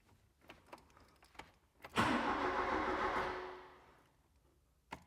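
Classic restomod project car engine cranking over on a cold day: a few faint clicks, then a loud close starter whirr that churns for about two seconds and fades away without catching, followed by another click.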